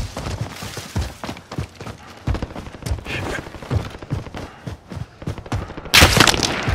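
Gunfire from the video game Call of Duty Warzone, a string of sharp shots and bursts with a loud blast near the end, mixed with game noise and some voice.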